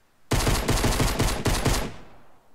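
Rapid pistol shots fire in the Fortnite Battle Royale video game, a loud, close burst of about six evenly spaced cracks that then trail off quickly, with no talking.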